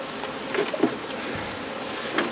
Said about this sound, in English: these bees right here, right now, are pretty angry